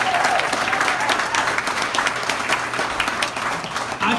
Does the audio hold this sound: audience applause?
yes